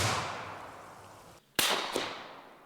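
Two sharp gunshots ring out in a video game, a loud crack followed a moment later by a slightly softer second shot, each trailing off quickly against a fading background hiss.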